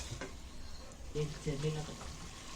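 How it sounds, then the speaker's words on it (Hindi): Masala spices fry and sizzle in a pan on a gas stove, a faint steady crackle under short voiced sounds as someone talks nearby. "ये देखो मसाला भून के हो गया।"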